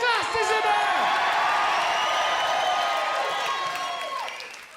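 An audience at a live comedy show at Benidorm Palace cheers and whoops loudly, a dense roar of voices that gradually fades toward the end.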